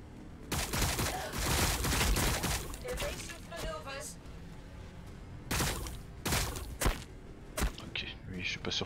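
Gunfire in the Warhammer 40k Battlesector strategy game, bursts of overlapping shots and heavy impacts, loud at first and then more scattered, with someone talking over parts of it.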